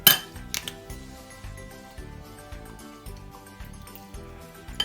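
A spoon clinks and taps rhythmically against a bowl while chicken Manchurian sauce ingredients with salt, soy sauce, vinegar and egg are mixed, giving a sharp first knock and then regular light clatters.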